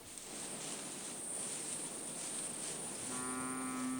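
Maasai cattle graze near swamps in the dry season under a steady outdoor hiss, with one low, drawn-out moo rising near the end.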